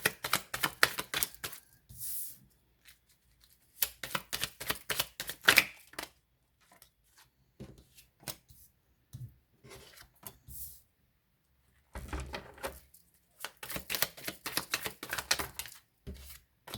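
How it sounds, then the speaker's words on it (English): Tarot cards are shuffled in quick, close bursts of crisp riffling and flicking, separated by brief pauses. "Okay, last shuffle."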